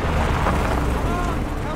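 A rocket fires with a loud, dense explosive roar that rumbles steadily through the brief moment.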